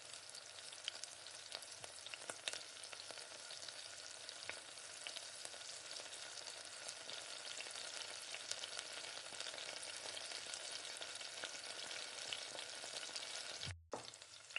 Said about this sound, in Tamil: ஸ்டவ்வை லோ ஃப்ளேமில் வச்சுட்டு நல்லா வதக்கணும்.